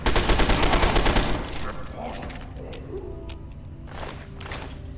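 Rapid gunfire in Fallout 3 played on very hard mode: a dense, loud burst of overlapping shots that breaks off after a second or so, then quieter scattered clanks with a voice talking over them.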